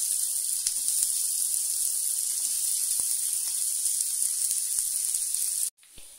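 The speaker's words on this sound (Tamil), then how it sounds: "அப்புறம் நம்ம வெங்காயம் கட் பண்ணி வச்சுருக்கோம், நம்ம போட்டுட்டு நல்லா வணக்கிக்கலாம்" Chopped onions and green chili sauté in a hot pan for a bread egg cutlet, giving a steady, close, bright sizzling hiss that cuts off abruptly near the end.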